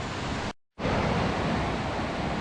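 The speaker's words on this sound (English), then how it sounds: "this is one of my favourite little waterfalls here" Small waterfall in Cortachy, Scotland, pouring as a steady, broadband rush of falling water, loud and close, with one brief dropout partway through and no voices.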